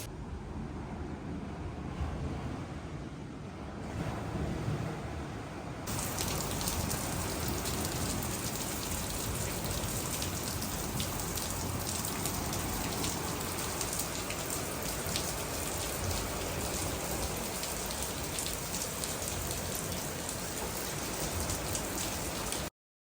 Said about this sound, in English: Sitting on this patio has been so relaxing, and then hearing it rain and hearing the surf.